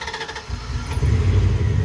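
The large engine of a 2001 Dodge Ram truck idles and rumbles steadily up close, its low growl swelling slightly as it runs.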